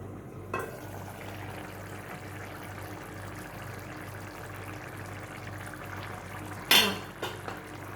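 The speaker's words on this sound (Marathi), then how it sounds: "आता आपण झाकण काढून बघूया." A metal lid comes off a pot of simmering Malvani black vatana curry, with a soft clunk early on and then a bright metallic clink and rattle, over a low, steady bubbling hiss.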